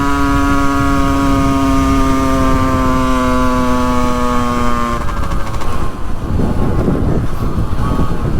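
A Yamaha 50cc moped engine runs roughly and close up, its steady buzzing drone holding loud for a while before it sags, sputters and turns ragged as if about to die.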